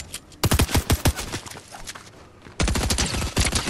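Rapid bursts of automatic gunfire in a duos video game match, loud and close, one string of shots, a pause, then a second dense burst.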